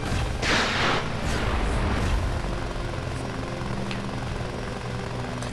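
A sustained loud rumbling roar with a burst of blasts early on, a missile attack in the mech strategy game Front Mission 4, continuous and dense with no talk.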